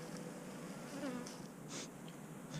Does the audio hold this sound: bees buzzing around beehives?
yes